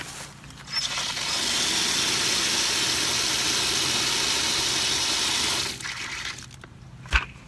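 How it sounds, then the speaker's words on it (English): Water pours steadily into dry peat moss for several seconds, a loud continuous rush that ends abruptly, followed by a brief sharp knock. "So what we're going to do is just put some water in here and mix it up."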